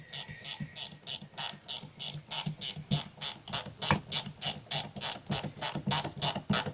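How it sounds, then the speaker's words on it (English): A gear wrench ratchets steadily as it runs a bolt home while a TBM XS3 brake kit is fitted to a 1964 Chevrolet Nova, giving a close, even train of about twenty crisp clicks, heard on its own. "I'm just going to grab the gear wrench and run it in the rest of the way"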